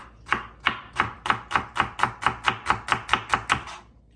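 Pork being sliced thinly with a kitchen knife, fourteen crisp, evenly spaced cuts striking the board in a steady rhythm, close and fairly loud with no voices.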